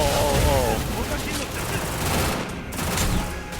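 A grenade launcher in the game Free Fire fires in a burst of bangs and rapid shots, with a voice talking over the gunfire.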